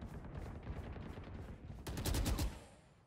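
Gunfire in the video game Valorant: evenly spaced single shots repeat at a steady rhythm, then a louder rapid burst of shots follows before trailing off.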